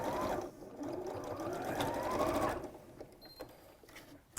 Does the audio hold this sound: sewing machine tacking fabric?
yes